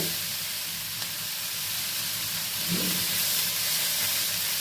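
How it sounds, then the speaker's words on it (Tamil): Steady hissing sizzle of drumstick leaves sautéing in a pan, with faint crackles and pops throughout. "படப்படன்னு சத்தம் கேட்கும் அந்த அளவுக்கு வதக்கி"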